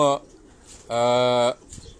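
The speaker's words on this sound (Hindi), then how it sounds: "उड़ने वाले जो उनके कबूतर हैं" Two loud cooing calls from pigeons of mixed breeds kept on a doctor's rooftop in Karachi's Defence area, a brief one at the start and a longer one in the middle, with quiet between.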